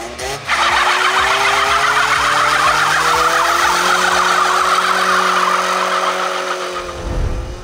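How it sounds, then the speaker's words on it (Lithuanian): A Mercedes starts up and revs in wintry conditions, its engine rising into a loud, strained whine with tire noise as it drives off, fading near the end. "O dabar brolis sėda į mašiną, važiuoja kebabu"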